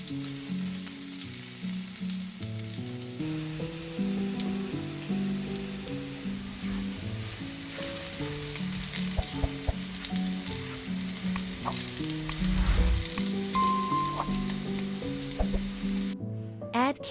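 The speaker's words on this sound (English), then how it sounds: "In the same pan, toss in the chopped garlic and chili." Chopped garlic and chili fry in a pan for a meatball spaghetti sauce, a continuous close crackling sizzle with occasional utensil scrapes, under steady background music and without speech.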